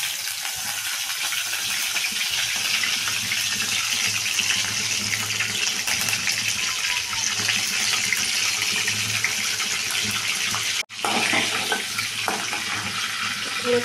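Cumin, mustard seeds and curry leaves crackle and sizzle in hot oil in a pan, a steady, dense hiss running close and loud throughout with one brief dropout near the end, no voices.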